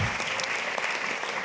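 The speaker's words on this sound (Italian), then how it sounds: "Applauso" Dense, close applause from a theatre audience at an Italian stand-up comedy show, a continuous wash of clapping throughout the short moment.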